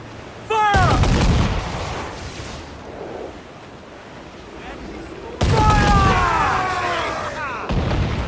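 Ship cannons firing in the video game Assassin's Creed Black Flag, two heavy booming blasts several seconds apart over a steady wash of ocean waves and wind, with shouting voices in the mix.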